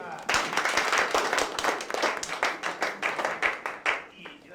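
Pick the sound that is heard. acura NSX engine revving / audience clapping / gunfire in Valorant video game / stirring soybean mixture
audience clapping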